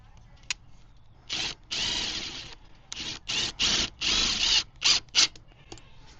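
A power drill drives screws into the plywood under the seat of a horse-logging cart, in a series of short, loud, close whirring bursts separated by brief pauses.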